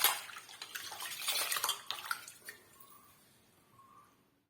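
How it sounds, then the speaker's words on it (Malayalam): Rice is swished and rinsed in water in a metal pot, a close splashing and sloshing with light clinks that fades to a few faint drips. "നമുക്കിത് 2-3 വെള്ളം നല്ല വൃത്തിയായിട്ട് ഇത് കഴുകിയെടുക്കാം"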